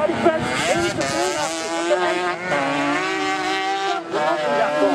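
A racing sidecar outfit on the Tonfanau track roars past with a loud, high-revving engine whose pitch shifts as it passes, with a public-address commentator talking over it.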